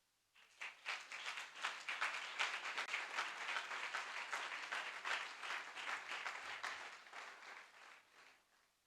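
A church congregation applauds and acclaims the Lord in sustained, dense clapping that swells in quickly and holds steady for several seconds, loud and full, before easing off at the end.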